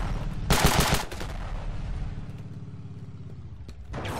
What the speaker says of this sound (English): That sounds like a tank.